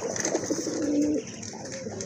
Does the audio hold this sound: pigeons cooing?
yes